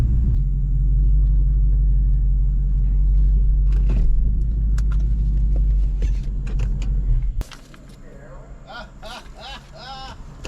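A Dodge SRT8 Challenger at a drag strip gives a loud, steady low engine rumble for most of the clip. It then drops to a quieter idle with higher tones and background noise.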